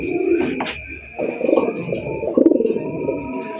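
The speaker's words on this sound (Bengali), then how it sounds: "এখানে রয়েছে চমৎকার আরো একটা কালারিং রাসগোল্লা কবুতর আপনারা দেখতেই পাচ্ছেন" Pigeons cooing at a night pigeon market in Dhaka, low rhythmic coos close by and repeated in short bursts, over a faint steady background hum.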